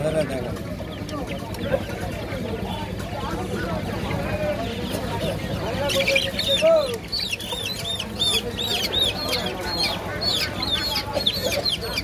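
Several chickens and young chicks cluck and squawk at a busy, noisy poultry market, with people talking nearby throughout.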